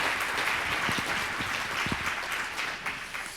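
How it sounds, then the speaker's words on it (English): Steady audience applause at a teaching conference keynote, many hands clapping together in a dense, continuous patter that holds even throughout. "let's give Celine a great round of applause."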